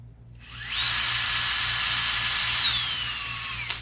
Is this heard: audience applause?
no